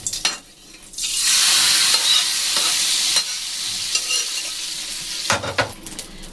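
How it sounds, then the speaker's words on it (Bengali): Cumin seeds, dried red chillies and bay leaves dropped into hot oil for a cauliflower khichuri, bursting into a loud, dense sizzle that holds steady, with a few spatula scrapes near the start and end. "জিরে, শুকনো লঙ্কা, তেজপাতা আমি এখানে দিয়ে দিলাম।"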